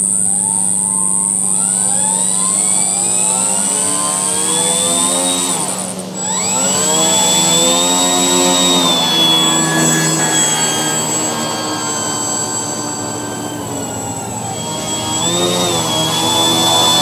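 A Durafly Tundra V2 RC plane's electric motor during a taxi test whines loudly and close, pitch rising and falling smoothly as the throttle changes, with a brief dip around the middle before the steady whir resumes.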